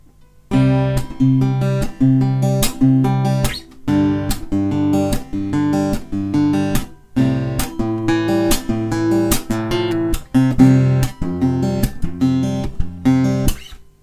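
Acoustic guitar in open C tuning playing the intro to a song, with ringing strummed chords and percussive string hits in a steady rhythm, close and full with brief pauses between phrases.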